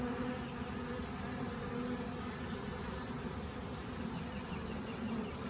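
A honeybee swarm being hived into a wooden box, a dense, steady, close buzzing drone of many bees that holds level throughout with no voices.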